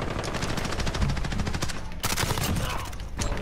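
A light machine gun firing in Call of Duty Modern Warfare, rapid sustained automatic bursts loud and close with a brief break midway, no talking over it.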